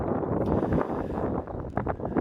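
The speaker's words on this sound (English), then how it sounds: "let me wait for the wind to die down" Blustery wind buffeting a microphone in Newburgh, a dense low rumble with gusty swells that stays loud throughout, no voices.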